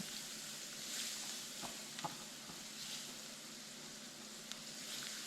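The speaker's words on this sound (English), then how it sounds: "Put your onions, green peppers, and garlic in. Let's get these cooked down." Onions, green peppers and garlic sizzle softly in a pan, a steady quiet hiss with a few faint clicks and stirring sounds throughout.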